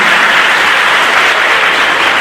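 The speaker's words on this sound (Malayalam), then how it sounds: "സോ നല്ലൊരു കൈയടി" Audience at a town hall event in Aluva bursts into dense, loud, continuous applause, a sustained wash of clapping from a large crowd.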